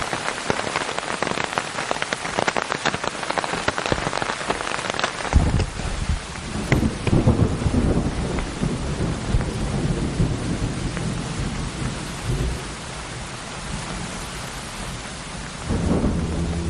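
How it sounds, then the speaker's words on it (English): Heavy rain pours down in the wilderness during a thunderstorm, with loud rolling thunder cracking in several times over a steady dense hiss of rainfall. "suddenly it just started belting down with rain"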